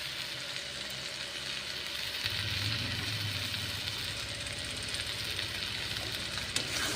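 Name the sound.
chicken and potatoes frying in a pan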